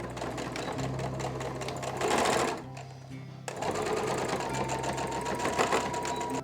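A sewing machine top-stitches a folded fabric strap. Its steady, rapid motor hum and needle chatter run close and loud, pause briefly around the middle, then resume at an even pace.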